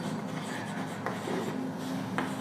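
Chalk or marker scratching steadily across a board during a Class 10 maths lesson on circles, close and continuous with a few sharper taps, no talk over it.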